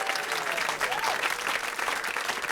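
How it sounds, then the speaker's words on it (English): Audience applause at a jazz duo senior recital for voice and cello, a dense steady wash of clapping from a crowd that holds evenly for the whole stretch, with a faint voice briefly audible underneath. "Big round of applause for those fine people."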